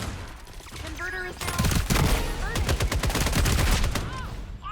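Rapid bursts of gunfire in the FragPunk shooter during a competitive match, repeated volleys of sharp automatic shots in quick succession with electronic game effects in between, loud and close.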